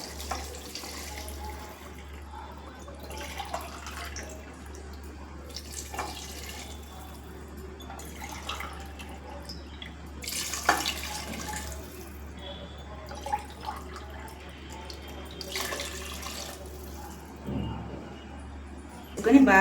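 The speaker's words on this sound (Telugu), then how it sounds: "2 గ్లాసులకి 4 గ్లాసులు వాటర్ వేసుకుంటున్నాను." Water poured from glasses into a cooking pot of rice for jackfruit biryani makes faint, intermittent splashing and trickling over a steady low hum.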